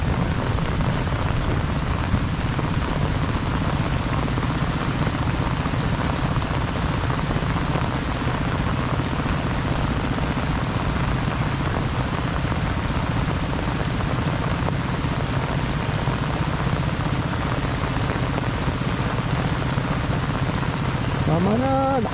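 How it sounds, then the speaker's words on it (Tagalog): Heavy storm rain pours down steadily in a dense, loud hiss while fishing, continuing unbroken throughout with no voices. "Ang lakas ng ulan."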